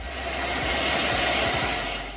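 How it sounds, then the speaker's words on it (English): A hair dryer blows with a loud, steady roaring whoosh, close by and unbroken. "I'm gonna need to get the hairdryer out one more time"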